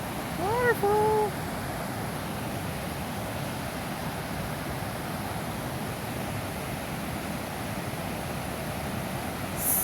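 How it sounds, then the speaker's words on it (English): Waterfall of snow melt water in a Colorado state park, a steady broadband rushing roar that continues unbroken, with a brief voice near the start. "Waterfall."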